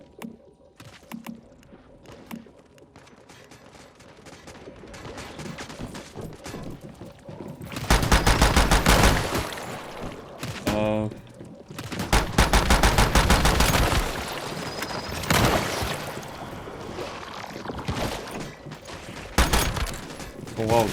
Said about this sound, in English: I'm also supposed to let the turrets destroy 10 enemies.